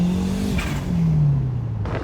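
A modded Honda S2000 engine revs hard and close, its pitch climbing and then falling back, with no talk over it.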